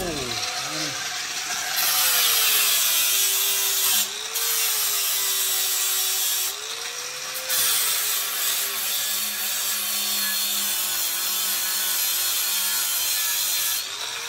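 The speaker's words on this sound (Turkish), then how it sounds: "Bu zımparayla o bölgeyi taşlayacağız." Steady coarse sandpaper scraping on a Nissan 200SX S14a flywheel, loud and continuous, with brief bursts of harder grinding and a whining tool tone underneath.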